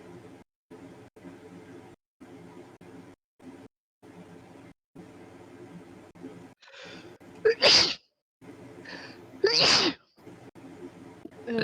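Two loud, sharp sneezes burst out close by, a couple of seconds apart, over a quiet, choppy background of low tonal hum that keeps cutting in and out.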